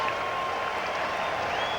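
A baseball stadium crowd at a 1990 Pirates–Mets game rises and cheers for a strikeout, a steady dense roar of voices and applause filling the whole moment without a break.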